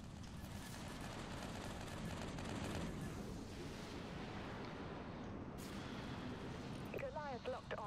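An artillery barrage is called in during a Dreadnought naval battle video game: rolling, rumbling blasts stack into a continuous low roar, fairly quiet overall, with voices speaking over it.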